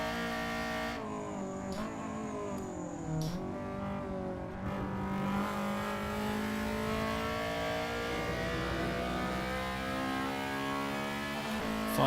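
Honda Civic EG race car in a Civic Cup race at Castle Combe, flung through a chicane, with a loud, close engine drone, pitch dipping under braking, then climbing steadily as it revs hard out of the turn.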